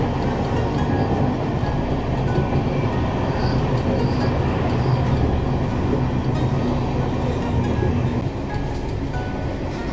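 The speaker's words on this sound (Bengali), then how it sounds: "এসেই দেখছি ট্রেনটা টার্ন নিচ্ছে, খড়গপুর থেকে বেরিয়ে যাচ্ছে।" The Howrah–SMVT Bengaluru SF Express rumbles steadily as it turns out of Kharagpur, a continuous loud roar of wheels and carriage noise heard from near the door, with a faint squeal and no clear speech.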